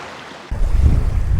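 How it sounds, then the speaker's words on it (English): Strong gusting wind at an Ohio River bank buffets the microphone, starting as a steady hiss and then jumping into a loud, low, rumbling roar that stays constant to the end. "I don't know if you can hear that wind noise or not, but it is just windy, super windy out here."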